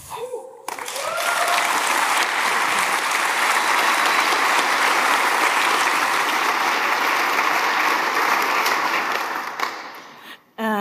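Audience applause at a keynote talk on surveillance after the Snowden revelations, breaking out and swelling into sustained loud clapping that fills the hall, then tapering off near the end.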